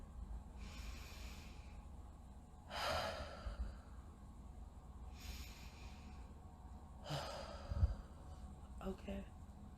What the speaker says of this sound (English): let's just take like 3 more breaths